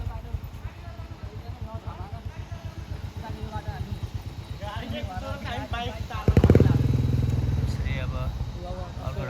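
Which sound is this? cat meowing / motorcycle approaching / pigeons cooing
motorcycle approaching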